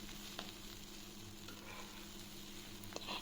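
Loitta fish (Bombay duck) fries in a pan on its second side, producing a faint, steady sizzle with occasional small pops and no talking.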